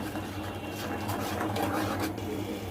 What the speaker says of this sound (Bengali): এখন আমি এটাকে চুলায় দিয়ে একটু নেড়ে চেড়ে ঘন করে নিব।